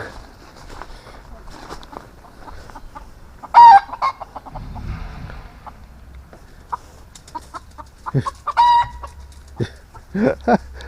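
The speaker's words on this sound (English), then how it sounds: "We've upset the chickens." Chickens cluck and squawk nearby in scattered bursts, with a few sharp calls standing out, while people talk quietly in between.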